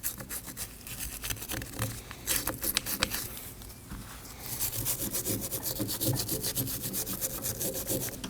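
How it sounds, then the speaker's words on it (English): A wire brush scrubs an upper strut mount on a car with quick scratchy strokes in a steady, fairly quiet rhythm, close up with no voices. "I'm just going to go ahead and clean this up with some brake parts cleaner and a wire brush."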